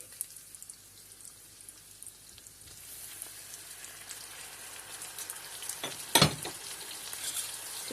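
Sucuk sausage and two medium tomatoes fry in a pan with a low, steady sizzle that grows slightly louder, with a brief clattering stir partway through and no talking.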